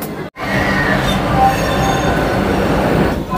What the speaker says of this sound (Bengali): আমাদের ট্রেন ছেড়ে দিল খড়গপুর জংশন থেকে।